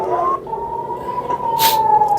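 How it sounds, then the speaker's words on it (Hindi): A warning siren sounds continuously in Israel during a missile attack, a steady wailing tone at moderate volume with a brief burst of hiss partway through. "सायरन बज रहा है लगातार।"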